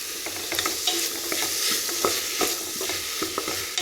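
Chopped tomatoes frying in a pan are stirred with a utensil, giving steady close sizzling broken by repeated scraping strokes, with no talk.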